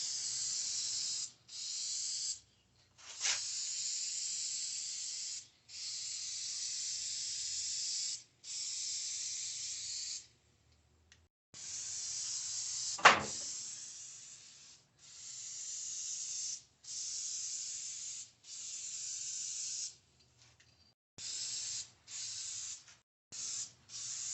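Spray bursts lay varnish coats onto a wooden American flag address sign, a series of steady hissing passes of a few seconds each with brief pauses between, close and moderately loud.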